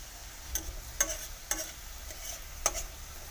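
Onions frying in oil as turmeric is stirred in, a faint steady sizzle broken by four or five light clicks of a spoon against the pan at uneven intervals.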